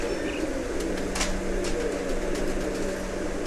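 Pigeons cooing softly in a loft of prized birds in Islamabad, Pakistan, a steady low murmur of coos under a constant background hum, with no talking.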